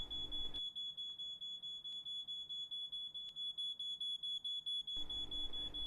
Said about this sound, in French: l'alarme qui retentit jusqu'à la fin de la scène est assimilable à un rythme cardiaque